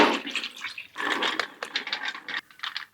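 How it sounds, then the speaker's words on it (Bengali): Water from soaked chana dal drains through a perforated plate, a close, bubbly trickle and splash in several short bursts. "একটা ফুটো করা থালাতে জলটা ঝারিয়ে নিচ্ছি"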